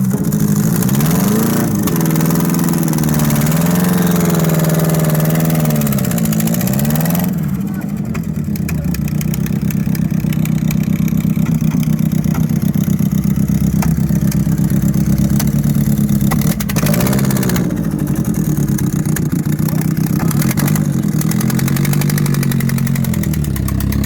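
A micro banger race car engine at Lochgelly Raceway in Fife, Scotland, is started and then idles loudly and close by, with a few blips of the throttle early on before it settles into a steady, rough running note.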